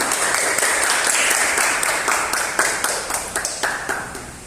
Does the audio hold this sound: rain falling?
no